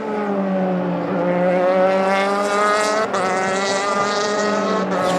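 Euroformula Open race cars scream past on the long start-finish straight at Estoril, a loud, steady engine note with layered harmonics sustained throughout, briefly dipping as one car gives way to the next.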